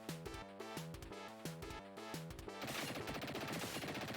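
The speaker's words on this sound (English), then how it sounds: "I'm no good at not shooting the windows out" Rapid bursts of gunfire from the Dick Tracy Mega Drive game, shooting out windows, crackle over chiptune music, growing denser and more constant toward the end.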